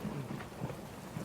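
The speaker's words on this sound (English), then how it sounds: "it's been raining, pouring and thundering" Thunder and heavy pouring rain used as a sound effect in a radio production of Our Town form a dense, continuous low rumble with a steady hiss of rain, loud and unbroken, with no voices.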